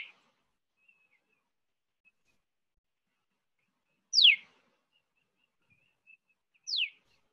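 A tailor bird gives two sharp, rising whistled notes, a few seconds apart, clear against near silence with a faint chirp at the start.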